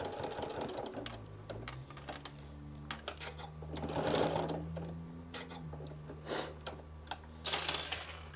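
A sewing machine stitches fabric in short bursts of rapid mechanical whirring and clicking with pauses between runs, under a low background hum.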